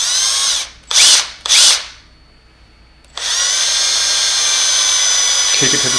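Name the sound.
power drill drilling into Delrin plastic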